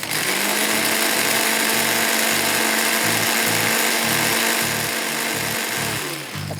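An electric grinder pulverising spices for chicken shawarma, running loud and close with a steady high whir and a rhythmic low thumping pulse from the jar, continuing for several seconds before easing off at the end.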